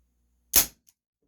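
One sharp, loud crack from an Umarex Beretta PX4 Storm BB pistol, a CO2 blowback air pistol, fired close by against near silence, followed by a faint tick a moment later.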